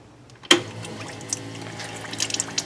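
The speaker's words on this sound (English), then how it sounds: "I wired it up to a pump that pumps from the water tank up in the front." A small electric water pump in a teardrop camper trailer kicks on abruptly and draws from the front-mounted water tank, followed by steady running water splashing and trickling close by.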